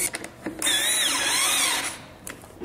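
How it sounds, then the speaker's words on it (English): A power screwdriver driving screws into an IKEA Renberget chair, a single whirring burst of just over a second whose pitch dips and rises as the screw seats, close and loud, with faint handling clicks around it. "then you can use the screwdriver to get everything in"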